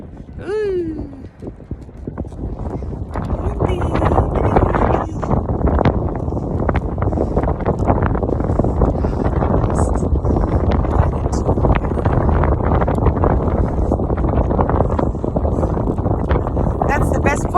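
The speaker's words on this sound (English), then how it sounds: "It's pretty windy!" Strong wind roars and buffets the microphone on a suspension sky bridge high in the mountains of Gatlinburg, Tennessee, a steady loud rush throughout with people's excited voices over it.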